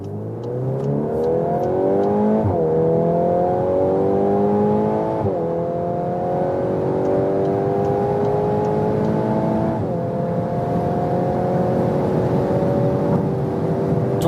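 A VW Golf R 20th anniversary edition accelerates hard in race mode, its engine note climbing steadily through the gears with brief dips at each shift, loud and close throughout with no talk.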